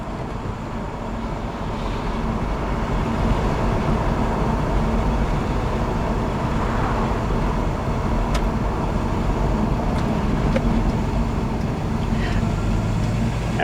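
A car with a joystick-controlled 4L60 automatic transmission, shifted by hand, drives along with a steady, loud broadband road and engine rumble that holds constant throughout, with no voices.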